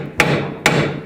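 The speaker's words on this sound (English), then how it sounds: "hammer them out." A hammer strikes bolts out of a steering knuckle on a 2005-2009 Chevy Equinox during a front lower ball joint replacement, two sharp, loud metallic blows about half a second apart, each trailing a brief ringing decay.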